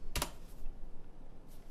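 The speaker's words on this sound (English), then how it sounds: "it's going to key all those commands in as if we're typing it from the keyboard" Computer keyboard typing tied to a VIC-20 loading a FORTH program: one sharp, loud click burst near the start, then quiet clatter and a faint second tap near the end.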